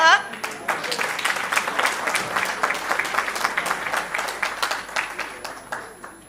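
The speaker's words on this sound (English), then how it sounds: "Can we clap for her?" Audience applause at a teachers' research colloquium, a dense, steady patter of many hands clapping at once, sustained and fairly loud for several seconds with some voices mixed in.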